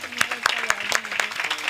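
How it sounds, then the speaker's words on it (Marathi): Audience applauding the boys at a devotional Gita Jayanti gathering, rhythmic clapping in a steady beat with a faint tonal hum beneath, brief and fairly close. "सगळ्या पोरांसाठी एकदा टाळ्या वाजवा"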